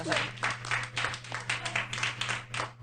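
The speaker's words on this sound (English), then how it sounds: "There's something so sad sounding about like two people clapping." A thin, sparse patter of clapping from roughly two people at a televised comedy talk show, a steady run of light claps with a faint hum behind it.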